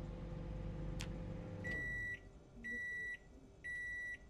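A microwave oven in the video game Project Zomboid hums steadily, then stops and gives three loud, evenly spaced beeps, close and clear with no talk.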